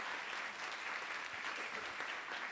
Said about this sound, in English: So a big round of applause for Nawaf as well.